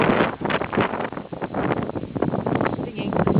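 Strong gusting wind in a snowstorm in Quebec City at about minus five degrees, roaring and buffeting loudly and continuously against the microphone, close and unbroken.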